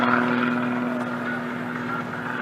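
Aerobatic airplane in flight at the 2013 Wings Over Coshocton Air Show, Richard Downing Airport, Ohio, giving a steady, sustained propeller-engine drone with a strong constant tone, loud and unbroken.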